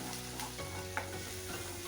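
Steady soft sizzling of cumin seeds frying in mustard oil, with a few light stirring scrapes; no voices.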